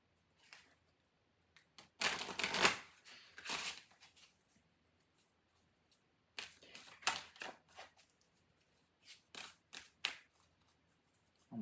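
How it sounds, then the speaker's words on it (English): Tarot cards are shuffled in short bursts, riffling and slapping together up close and faint, with quiet gaps between the flurries and no talking. "One more shuffle."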